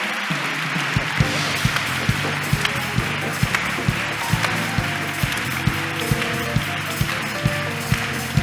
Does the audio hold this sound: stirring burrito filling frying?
no